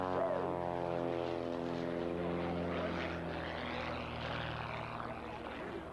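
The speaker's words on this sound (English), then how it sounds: "The airplane at 160 miles an hour now, making that power correction, making that altitude correction." Aerobatic propeller airplane flying low over a 1986 airshow in East Hartford, a loud, steady engine drone with a slowly shifting pitch that fills the whole stretch, with no voices.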